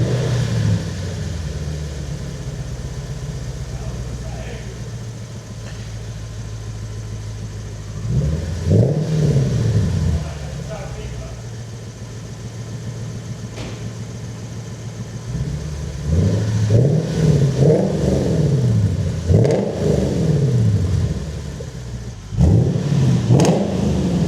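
Lexus IS F V8 fitted with a new exhaust, idling with a steady low rumble, then blipped in several sharp revs that rise and fall, mostly in bursts toward the end, close and loud with no talk.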